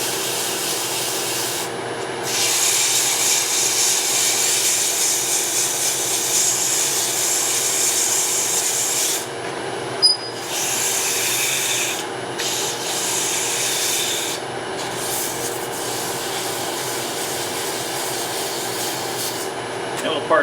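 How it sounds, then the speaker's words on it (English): Steady hand sanding of wood with 180 grit sandpaper, a continuous close rasping rub that holds a constant level for about twenty seconds with only brief breaks between strokes. "Grab my sandpaper. Just do a little 180 grit here for a minute."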